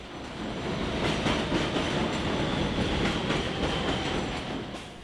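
A subway train rumbles steadily past at the Astoria Boulevard station in Queens, with rhythmic clickety-clack from the wheels, loud and close throughout, no voices.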